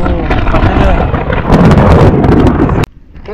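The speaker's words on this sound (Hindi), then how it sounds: "बिजली कड़क रही ना और मुझे डर बहुत लगता है बिजली से" A loud, rumbling roar of thunder fills the air with gusty wind noise and crackling, then cuts off abruptly into quieter outdoor ambience.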